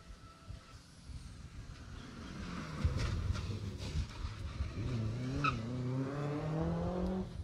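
Rally car number 52 on a Jersey Rally stage, engine note rising as it approaches and sweeping past at a distance, with a long climbing whine over a low rumble and faint background noise.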